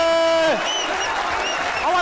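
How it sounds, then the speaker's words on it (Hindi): A studio audience at a Pakistani comedy talk show claps in a steady wash of applause that tapers off, with a voice and tonal sounds over it. "तालियां हल्के हल्के रोकें, एकदम से खत्म कर दें"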